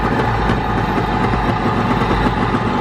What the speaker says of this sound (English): It's idling right under 1500.